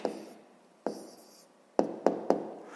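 A pen writes out the answer to a sixth-grade maths exercise on paper, with a soft scratching stroke followed by a few sharp taps and short scribbles, close and quiet, with no speech.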